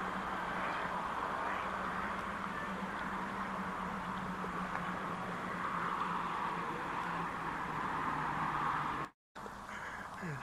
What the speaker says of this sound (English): Apart from the traffic noise across the other side of the pond.